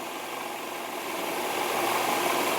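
A car engine idles steadily at close range while new coolant circulates through the radiator and engine during a coolant exchange, a continuous even hum that grows slightly louder toward the end.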